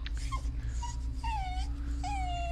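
A puppy whimpers in a VR Chat horror game, giving several high, rising and falling whines and soft moans over a steady low drone, close and fairly clear.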